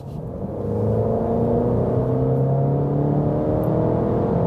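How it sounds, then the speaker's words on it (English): A 2023 Alfa Romeo Giulia in C mode accelerates hard from 60 to 100 km/h, its engine note rising in a steady, loud, continuous whirring roar heard from inside the cabin. "60 kilometers an hour, first acceleration, let's go."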